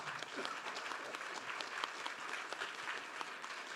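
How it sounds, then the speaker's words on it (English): An audience at a marine science conference applauds a speaker, a dense, even patter of many hands that holds steady for several seconds with no voices over it. "Round of applause for David, please."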